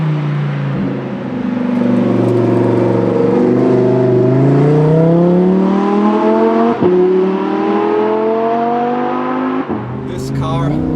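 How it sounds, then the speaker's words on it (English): A Lamborghini Huracan EVO RWD with a near straight-pipe exhaust revs loudly, its engine note climbing and falling through gear changes with sharp shift breaks, heard from close up. "It just has practically a straight pipe exhaust, some catalytic converters, and nothing more."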